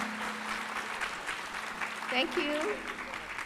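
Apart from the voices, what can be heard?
audience applause for panelists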